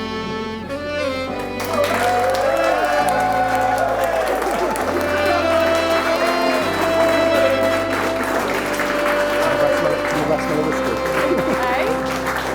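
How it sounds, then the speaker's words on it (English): Wedding guests applaud steadily under loud music with a deep bass line, clapping and a few cheers blending into the mix for over ten seconds. "Ask you to join me in a round of applause."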